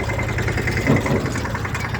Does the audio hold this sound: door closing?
no